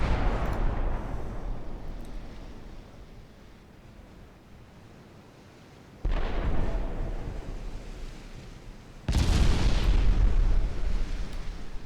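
Torpedo explosions during a naval battle game, three heavy booming blasts that each erupt loudly and roll off into a long surging rumble like churning water.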